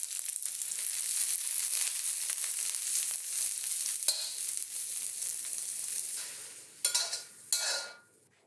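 Sliced mushrooms, green onions and minced garlic hit hot oil in a pan with a steady close sizzle, stirred with scraping, crackling bursts near the end before it fades.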